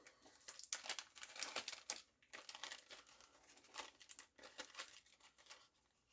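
Flash paper being crumpled by hand nearby, quiet crinkling in irregular bursts with short pauses between them.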